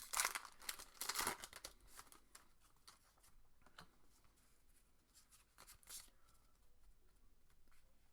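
A Pokemon Roaring Skies booster pack is torn open, with loud crinkling and ripping foil at the start, then softer rustling and handling of the cards, close up and without talk.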